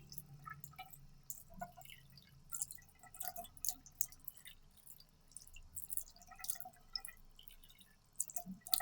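Water drips and trickles as eyelash extensions are rinsed at home after shampooing, a quiet close-up run of irregular small splashes and droplets with no talk.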